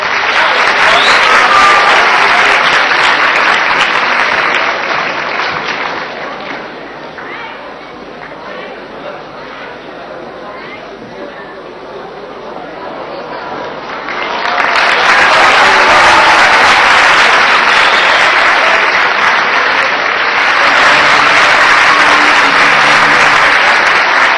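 An audience at an Istanbul gathering gives Prime Minister Küçük loud, sustained applause that eases to lighter clapping for several seconds, then swells back to full strength and continues to the end.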